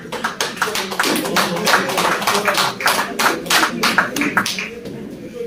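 Dense, steady applause from an award ceremony crowd at a Kashmir pigeon-sports club's car cup event, many hands clapping continuously and fairly close for several seconds with a slight fade near the end.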